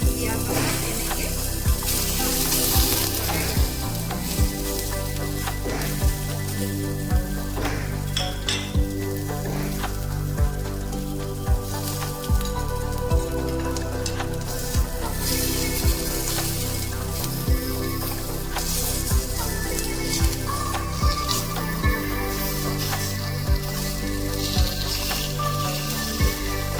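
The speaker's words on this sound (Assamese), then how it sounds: "এতিয়া মই মাছৰ পিচকেইটা অকণমান লৰাই ল'ম দেই।" Fish pieces sizzling in oil in a pan as they are stirred, with a constant loud crackle, frequent metallic utensil clinks and scrapes, and music running underneath.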